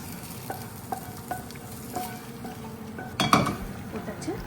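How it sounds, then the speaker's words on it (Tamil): A sautéed mixture is stirred into a boiling chicken curry in a pan, with soft bubbling and sizzling and a few spoon clinks against the metal, followed by a louder scrape and clatter of stirring near the end. "இது மேலே போட்டு நல்லா கலந்து விட போகிறோம்"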